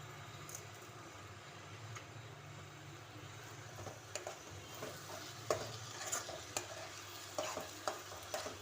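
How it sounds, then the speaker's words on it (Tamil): Chopped tomatoes sautéing in a pan with garlic paste for a prawn thokku, a steady low sizzle with scraping stir strokes and light utensil clinks growing more frequent toward the end, no voices. "பூண்டு பேஸ்ட் வதங்கின உடனே நம்ம சாப் பண்ணி வச்சுருக்க தக்காளியை போட்டுக்கலாம்."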